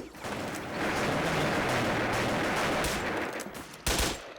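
Sustained bursts of rapid automatic gunfire from the online shooter Wolfteam, loud and dense for several seconds with a sharper crack near the end.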